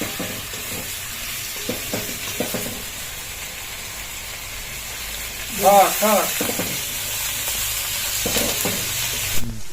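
Capsicum and vinegar stir-frying in a hot pan for a small home feast: a steady, close sizzle with scraping stirs, briefly louder midway as a voice and clatter break in.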